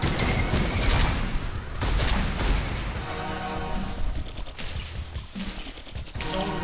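Gunfire and explosions from units shooting down anti-air and flying units in the real-time strategy game Grey Goo, a dense, continuous battle din of bursts and booms throughout.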